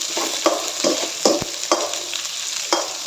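Onions and green chillies fry on medium flame in a pan for vegetable noodles, a steady close sizzle broken by repeated scraping stirs and light clanks of a spatula, with no talking.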